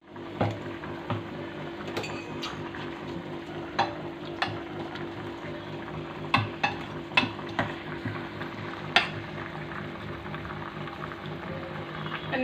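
Eggplant and pea gravy simmers in a pot, a soft continuous bubbling and gentle sizzle with scattered light clinks and pops, close and fairly quiet throughout, with no talk.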